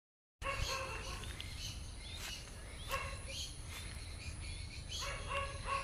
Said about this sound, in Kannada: ಈ ಕಡೆ ಹುಲ್ಲಲ್ಲಿ ಹಕ್ಕಿಗಳು ಕೂಗ್ತಾ ಇದೆ,